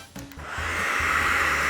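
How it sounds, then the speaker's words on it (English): A handheld hairdryer switches on and blows steadily, a close, loud whooshing hiss with a motor whine that rises quickly and holds without any talking. "If you've ever used a hairdryer like this one"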